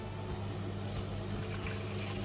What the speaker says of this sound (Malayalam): ചൂടുവെള്ളം ഒഴിക്കുക.